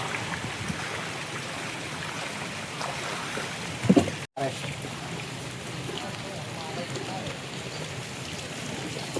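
A stream's water current flows steadily with a broad, even rushing wash throughout, with a brief knock and a momentary dropout partway through and low voices faintly underneath.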